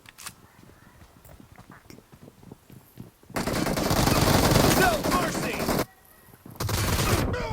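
Automatic weapon fire in the mobile shooter PUBG Mobile, a dense sustained burst of rapid shots lasting a few seconds, then a brief pause and another loud burst, with quieter clicks and movement before.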